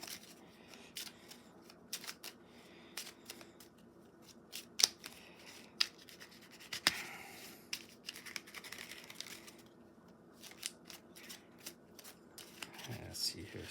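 Treasure cards for a board game being shuffled and mixed by hand, a quiet run of soft papery riffles and crisp flicks with scattered sharper snaps, close up and steady over several seconds with no talking.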